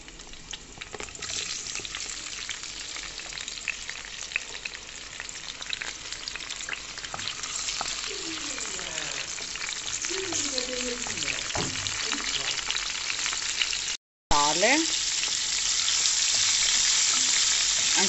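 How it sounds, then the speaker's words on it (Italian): Garlic frying in olive oil in a home pan, a steady dense sizzle holding throughout, with brief stirring scrapes, a short dropout near the end, then the sizzle resumes a little louder. "in questa padella ho messo l'aglio e l'olio"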